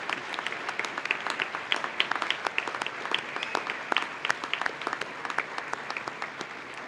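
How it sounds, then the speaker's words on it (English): Audience at the 2018 Exemplary Youth Awards ceremony in Elmhurst gives awardees and dignitaries a sustained round of applause, dense overlapping claps at steady moderate volume with sharper individual hand claps standing out throughout. "I also want to ask you for one last round of applause for all our awardees and"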